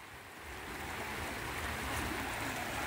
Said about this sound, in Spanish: Estamos viendo ya el río. Se mira bien correntoso.